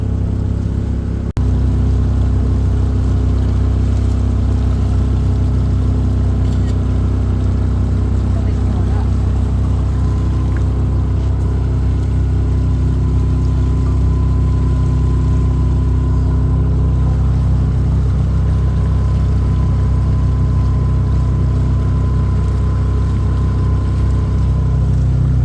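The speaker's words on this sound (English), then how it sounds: "Twin outboards, I haven't got them both going yet." Twin outboard motors push a boat on the river at Astoria, a steady loud low drone that holds through the whole stretch without a break, near and constant.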